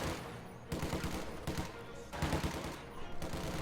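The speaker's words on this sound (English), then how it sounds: "Combat engineers will begin fire on the pioneers." Small-arms gunfire from combat engineers in Company of Heroes 2 arrives as several dense, crackling volleys with short gaps between them, set in a busy, moderately distant battle ambience.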